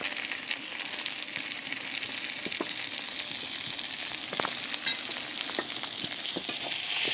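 Spice paste of garlic, ginger and green chili fries in a pan with a constant crackling sizzle, with scattered scraping taps as it is stirred; close and even in level, with no voices.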